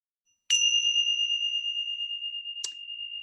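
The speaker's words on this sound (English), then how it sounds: "I brought a little bit of a wind chimes." Wind chimes ring out with a bright metallic strike followed by a long, sustained tone that slowly fades, then a second lighter tap about two seconds later, close and clear in a quiet setting during a full moon energy-clearing session.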